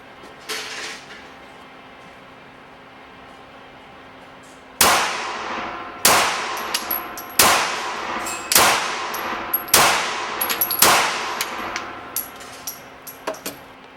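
Beretta Pico pistol firing Liberty ammunition at a range: a quiet stretch, then about seven sharp, loud shots at irregular intervals of roughly a second, each with a short ringing decay, trailing into smaller metallic clinks.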